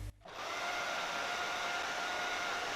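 A hair dryer runs on high heat over wig glue on a synthetic lace wig, a steady broadband blowing roar that starts after a brief pause and holds loud and constant throughout.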